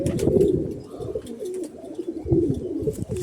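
Pigeons cooing close by, low throaty rolling coos repeating in a couple of bursts over soft rustling.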